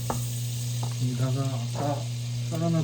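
A pot sizzles over low heat as butter melts and is stirred, close and continuous, with a steady electrical hum underneath and a few brief clinks.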